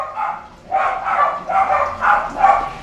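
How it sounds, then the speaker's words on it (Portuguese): A dog barks five times in a steady rhythm, the barks close and fairly loud, with nothing else heard. "cachorro."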